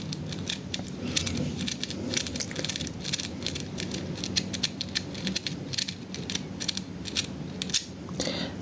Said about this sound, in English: The first thing I want you to do is scrubbing in and out, and watch how those pins